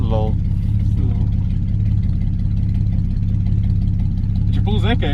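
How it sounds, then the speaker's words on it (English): An Opel Corsa 1.4 engine drones steadily from inside the car, with brief rising revs at the start and end, while people talk over it. "When you rev and the car goes like this."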